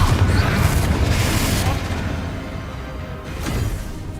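A Confringo explosive spell blasts in Hogwarts Legacy: a deep rumbling boom that fades out, then a second, lighter burst a few seconds later, loud and close.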